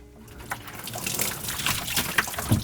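Water trickles and drips irregularly from a tankless water heater during flushing and descaling, a soft uneven dribble that grows slightly louder toward the end, with no voice over it.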